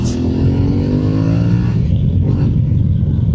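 A 2025 Aprilia Tuareg 660 parallel-twin adventure motorcycle accelerates hard, its loud, close engine note climbing steadily in pitch through the revs without a break.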